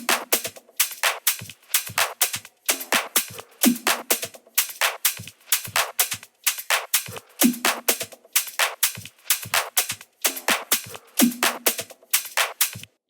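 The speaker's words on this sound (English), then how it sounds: "So drums and percussion for this style will sound a bit like this." A tech house groove of drums and percussion plays on its own in a steady, minimal looping pattern. Punchy kicks sit under crisp, tight hits, all close and loud.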